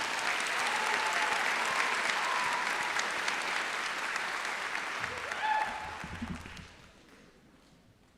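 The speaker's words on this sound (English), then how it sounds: "Let's give another round of applause for our student speakers." A graduation ceremony audience at a charter school applauds its student speakers. Steady clapping and a few voices fade gradually to near silence toward the end.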